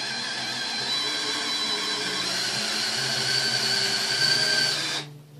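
A homemade wire stripper machine runs with a steady high motor whine and mechanical hum for about five seconds, close and loud, then cuts off abruptly.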